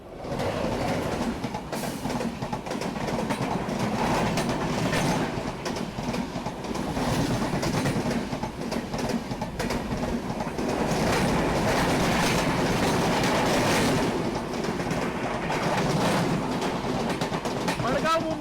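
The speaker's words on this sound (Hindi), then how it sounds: "मड़गांव मुंबई कोकण कन्या एक्सप्रेस के साथ क्रॉसिंग के बाद हमें सिग्नल दे दिया गया" The Madgaon–Mumbai Konkan Kanya Express passes at a railway crossing, heard as a steady, loud, continuous rumble and clatter of rolling wagons that lasts throughout without easing.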